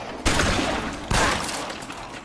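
Two sharp gunshot bursts in the video game L.A. Noire ring out close and loud, each decaying into a lingering noisy tail, with no talk over them.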